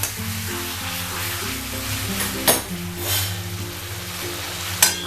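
Chicken and onions frying in a pan for a rustic village-style curry, a steady close sizzle with a few sharp scraping stirs of the spoon and a low hum running underneath.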